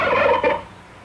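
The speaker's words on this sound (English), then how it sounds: "Turkey raising is one of the old standbys." Turkeys gobbling on a Texas farm, large baby beef turkeys, a loud close burst of rapid throaty warbling calls that fades after about half a second into a quiet background.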